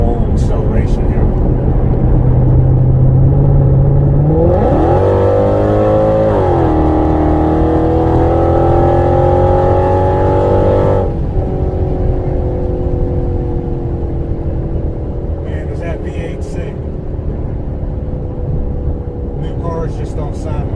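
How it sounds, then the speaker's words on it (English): Heard from inside the cabin, a 700 hp Mercedes-Benz SL55 AMG accelerates hard from a roll, its engine note rising and roaring loudly for several seconds before settling back to a steady drone, with talking mixed in. "Do a little roll acceleration here."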